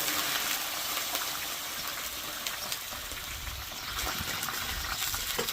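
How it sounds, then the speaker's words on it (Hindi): Half a litre of water gushes steadily into a hot pan holding oil, mustard seeds, curry leaves and green chillies, a continuous close hissing pour with no voices. "अब हम इसके अंदर आधा लीटर पानी ऐड करेंगे।"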